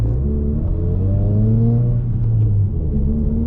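A 2018 Subaru WRX driving, heard from inside the cabin as a loud steady engine drone with engine pitch rising and falling as it accelerates and shifts, over continuous road rumble.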